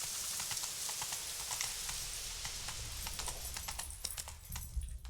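Horse hooves clip-clop steadily at a trotting pace in The Witcher 3 video game, a continuous rhythmic clatter of close, fairly loud hoofbeats with no talking.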